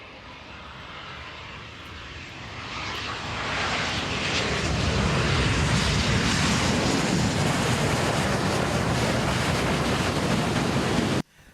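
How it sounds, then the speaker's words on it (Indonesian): A private jet, registration N977HS, at Rendani Airport in Manokwari, West Papua, builds from a rushing whine to a loud, steady roar, heard close and alone for about eleven seconds before cutting off. "Bahlil Lahadalia tiba di Bandara Rendani Manokwari menggunakan pesawat jet pribadi dengan tipe N977HS."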